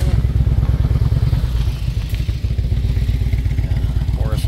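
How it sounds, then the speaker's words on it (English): A motorcycle engine rumbles steadily nearby with a low, pulsing drone, cruising past at an outdoor tractor show in Dodge County, with some clattering in the background. "Motorcycle cruising by there."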